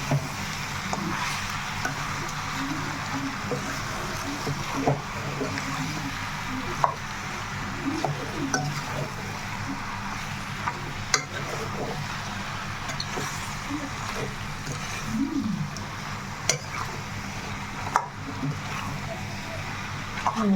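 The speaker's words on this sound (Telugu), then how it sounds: "చక్కగా మొత్తం కలిసేటట్టుగా కలుపుకుంటాం" Mutton biryani masala being stirred in a pot: a steady low sizzle runs throughout, with occasional soft scrapes and clinks as the spoon moves through the mixture at close range.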